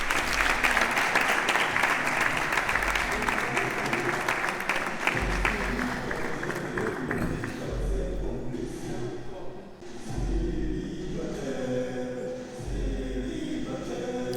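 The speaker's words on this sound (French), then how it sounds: "Je vous prie d'applaudir très fort pour le président des célibataires." A studio audience applauds a comedy show's "president of singles", dense clapping strong for the first several seconds, then thinning into scattered claps and crowd murmur with low rumble underneath.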